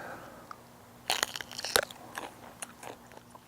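A fresh home-grown garden pepper, mild with no heat, is bitten into with a sharp crisp crunch near the mic, followed by a few softer crunches of chewing.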